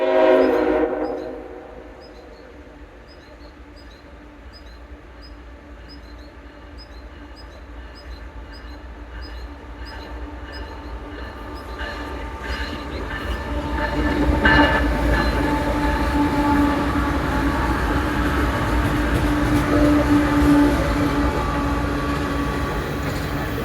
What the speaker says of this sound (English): I think we might have one more train rolling through.